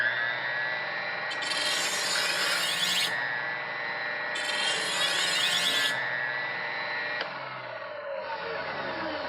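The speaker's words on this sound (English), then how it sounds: "Sharpen that edge, that new bevel." A knife edge gets a new bevel on a powered sharpening machine set to a medium speed: a steady motor whine runs throughout, with two distinct grinding passes of hissing abrasion against the blade, close and alone.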